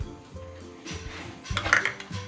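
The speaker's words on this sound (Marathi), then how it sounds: "हे पाव कप बटर घेतलं याच्यामध्ये आता हे छान मिक्स करून घेते आधी फेटून घेते" Butter being beaten in a bowl for a cake premix batter, with repeated clinks and scrapes of a utensil against the bowl that grow busier and louder toward the end.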